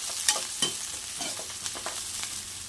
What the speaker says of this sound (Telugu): వేసేసి కొంచెం బాగా ఫ్రై చేసుకున్నాం ఆనియన్ అనేది.